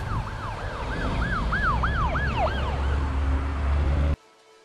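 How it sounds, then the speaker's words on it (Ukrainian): A loud, close ambulance siren wails in a rapid rising-and-falling pattern over a rumbling engine, then cuts off abruptly near the end. "Швидка допомога."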